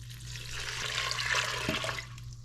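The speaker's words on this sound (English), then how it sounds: "now the 4 cups of broth to cook it in" Broth is poured from a container into beans for chili, making a steady, close splashing gush of liquid that lasts about two seconds.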